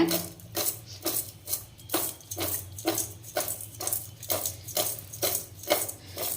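Chopped ridge gourd pieces rattle and shuffle in a bowl in repeated rhythmic shakes, about ten even tosses, close and moderately loud.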